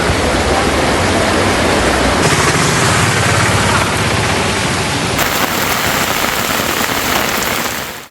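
Heavy rain pours without a break over a residential neighbourhood in Kutbullapur, Venkateshwara Nagar, Hyderabad, a dense, loud, steady roar of water that holds its level throughout with no voices.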